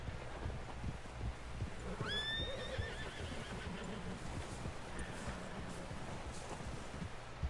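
A horse in the Red Dead Redemption 2 video game neighs once in a clear descending whinny, standing out over a steady low rumble of ambient game noise and hoof movement.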